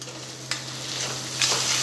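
Manchurian sauce with tomato ketchup and soy sauce stirred in a pan: a soft bubbling simmer with two brief scraping strokes of a spoon, close and quiet, without speech.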